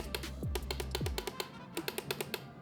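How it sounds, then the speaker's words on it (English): Magnetic paddle shifters on a GT3 Porsche Cup race car steering wheel snap with sharp, bright clicks, fired in quick irregular bursts, close-up and crisp against a quiet background. "Now, for reference, this is the sound of the actual race car wheel."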